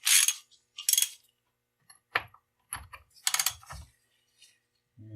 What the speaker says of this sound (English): Grab a 1/2 inch drive ratchet.